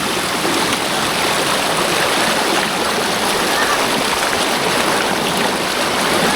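Water rushes loudly and continuously, a dense roar of a waterfall at Kaki Bukit Genting, Batang Kali, Malaysia, heard up close.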